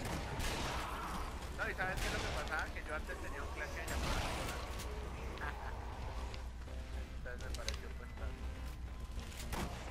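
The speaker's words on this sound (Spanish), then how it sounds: "Nos están disparando." Rapid gunfire and mechanical clacks in the co-op zombie shooter Zombie Army Trilogy, repeated shots scattered across the whole stretch, under constant chatter from several players.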